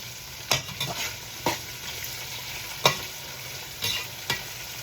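Onions and crab pieces frying in a pan for a country crab curry, stirred in a few sharp scrapes over a steady low sizzle, close by with no talking.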